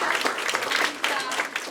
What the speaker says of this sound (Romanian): Aplauze pentru ea, hai să facem câteva de astea.